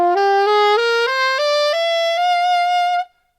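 Saxophone gliss from a song's solo, a quick flurry of notes climbing stepwise as one finger lifts at a time, ending on a sustained high note. The playing is loud and close, with no voices, before cutting off to silence.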